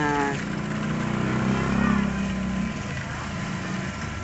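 Food mixer machine running with a steady mechanical drone and whir, moderately loud throughout with no break, alongside faint background noise.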